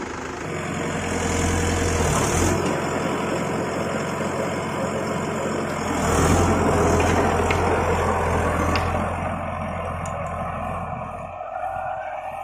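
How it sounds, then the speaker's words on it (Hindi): Mahindra Yuvo 585 DI 4WD tractor driving a rotavator at 1000 RPM in a vegetable field, a steady heavy diesel drone with churning mechanical noise that swells and eases slightly, close by and without talking. "रोटावेटर का स्पीड है 1000 RPM।"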